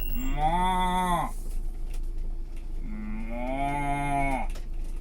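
A cow on a farm in Belgium gives two long, loud moos close by, separated by a short pause with faint background noise.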